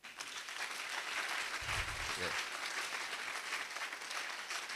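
An audience applauds Professor Faborode at a Central Office of Research gathering, steady dense clapping from many hands throughout, with a brief low murmur or voice partway through.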